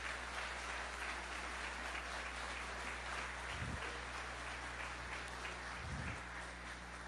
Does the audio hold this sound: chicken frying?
no